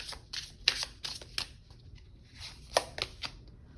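A tarot card pulled from a deck, a handful of soft papery snaps and slides in an uneven rhythm, close and quiet.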